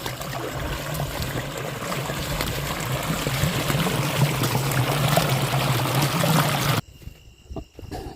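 Water gushes from an irrigation pump outlet in a farm field, a loud steady rushing flow that holds for several seconds before cutting abruptly to near quiet with faint scattered sounds.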